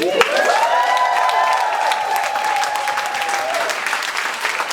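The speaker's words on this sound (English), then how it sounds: "Black women, clap for your legacy." Applause and cheers from a poetry jam audience after a spoken-word piece, a loud dense wash of clapping with a rising whoop near the start, sustained steadily to the end.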